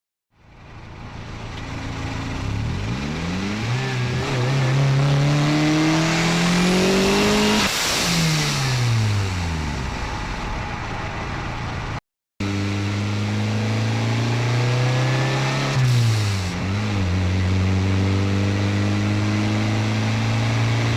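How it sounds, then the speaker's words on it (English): A turbocharged D15 Honda Civic EK hatchback accelerates hard on a test drive, engine pitch climbing through the gears with sharp drops at each shift, loud and close throughout with a brief cut midway. "After this I was able to take the car for a test drive."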